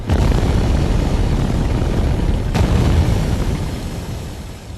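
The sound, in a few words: cannon firing at an enemy ship, explosions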